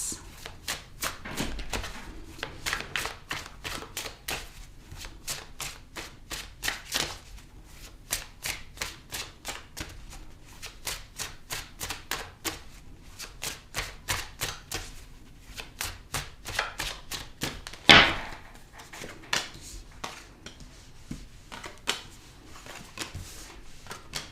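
Tarot cards being shuffled and drawn from a deck, a long run of rapid crisp riffling bursts with short pauses between them, close and fairly loud, with a single sharper snap near the end.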